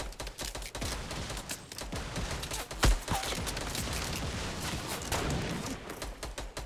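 Sniper rifle fire in a Fortnite match, with dense overlapping gunshot cracks and one sharp, louder report near the middle over steady game noise.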